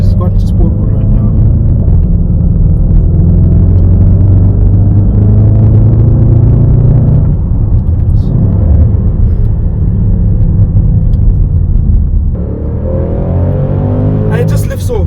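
A Range Rover SVR engine in sport mode drones loudly and steadily, rising as it accelerates, with a deep continuous rumble throughout.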